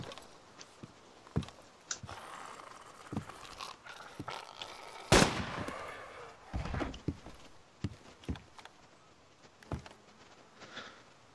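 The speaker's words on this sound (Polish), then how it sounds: "Ale mogę do ciebie tam pobiec, bo słyszę strzały." Sharp, scattered gunshots in the video game ArmA 2 DayZ ring out at irregular intervals, one much louder burst in the middle, over a steady background hiss.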